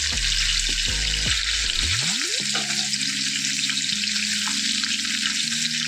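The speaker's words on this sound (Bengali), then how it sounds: "আর বেশি ভাজবো না, যেন পুড়ে না যায়, সেইভাবে পনিরগুলোকে ভেজে নিতে হবে।" Paneer pieces fry in a pan of oil with a steady, loud hissing sizzle that runs throughout, close by, alongside tonal electronic whines and no speech.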